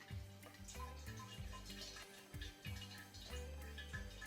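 Raspberry rhubarb juice poured gently through a steel colander, giving soft, irregular splashing and trickling in short bursts at close range and low volume.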